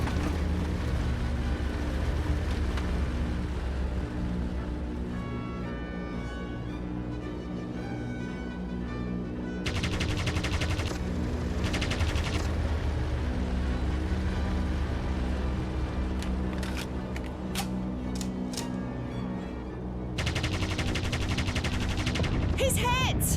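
Vickers machine gun fire in the air-combat video game Aviators, rapid continuous bursts over a steady droning aircraft engine, with brief pauses between volleys and voices talking.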